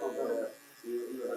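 Hair clipper buzzing during a textured low fade haircut, a steady close electric hum that dips briefly and resumes, heard under a voice giving instructions.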